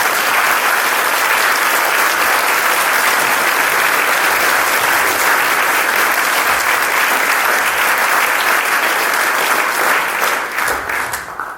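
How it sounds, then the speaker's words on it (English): An audience in a Methodist church gives a loud, sustained round of applause that holds steady for about eleven seconds before starting to fade at the end. "Can I ask for one more round of applause for him?"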